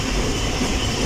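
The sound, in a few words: Awam Express train running at full speed, 110 km/h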